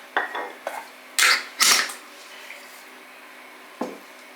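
Flour stirred into bread dough in a bowl, a few irregular scraping and clunking strokes of a spoon against the bowl, some louder bursts then a pause and one last knock, close and clear.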